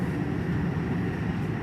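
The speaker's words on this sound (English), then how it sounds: "Hold on one second. The train's passing." A passing train gives a steady, broad, loud rumble that fills the background without pause, close enough to drown out the room.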